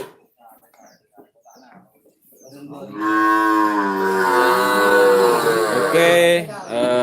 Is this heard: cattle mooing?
yes